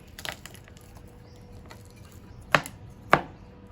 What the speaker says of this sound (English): take the coriander roots, give it a big cut and put it in my mortar pestle